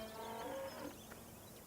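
Cows mooing in the video game Farming Simulator 17: a single drawn-out bovine low, tonal and moderately near, fading after about a second, with a soft ambient bed beneath and no speech.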